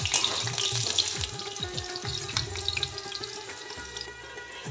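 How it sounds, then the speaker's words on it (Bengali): Washed potato pieces dropped into hot white oil in a wok, an abrupt loud sizzle and spatter of frying that settles into steady crackling. "এবার ধুয়ে রাখা আলুর টুকরোগুলো তেলের মধ্যে দিয়ে দিচ্ছি"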